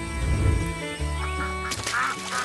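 Cartoon ducks quack in an animated farm scene, a few nasal calls stacked over bright background music, loud and close with no talking.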